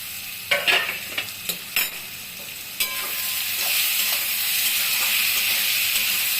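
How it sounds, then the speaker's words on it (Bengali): Fish and potato stir-fry in a Bengali-style pan: a lid lifted with a few clanks and spoon taps, then a loud, steady steamy sizzle and hiss rising as the pan is stirred, close up with no talking. "তুলে একটু নাড়াচাড়া করছি, দেখি আলুগুলা সেদ্ধ হয়েছে নাকি।"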